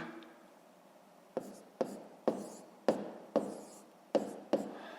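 A pen writes numbers by hand on paper while working a decimal subtraction, giving seven short, crisp strokes at steady intervals, close and fairly quiet, with no voice over them.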